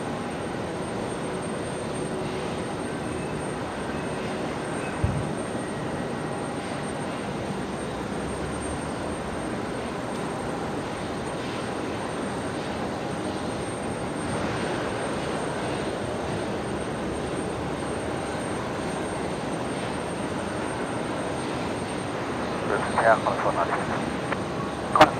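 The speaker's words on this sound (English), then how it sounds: "Jetstar 321 Neo next." A Jetstar Airbus A321neo jet at Brisbane Airport at night gives a steady, distant broadband roar, heard throughout beneath air traffic control radio chatter and voices.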